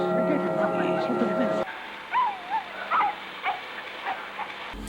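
A dog in a movie gives several short whining, yipping cries in a row at moderate level after a burst of film soundtrack, with talk nearby.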